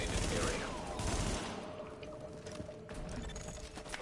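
Shotgun gunfire in the video game The Division, with dense rapid blasts clustered in the first second and a half, then scattered further shots and game noise under a speaking voice.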